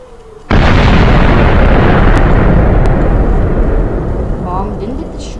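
A missile detonates in the Voltz mod for Minecraft, a sudden loud roaring blast that rumbles on and slowly fades over several seconds as a voice speaks faintly over it.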